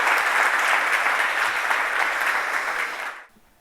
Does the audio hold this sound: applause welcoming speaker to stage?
yes